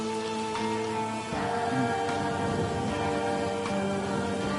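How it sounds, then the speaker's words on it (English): Steady rain ambience from the video game Silent Hill f, a dense continuous hiss of falling rain with scattered drops, heard alone. "that rain."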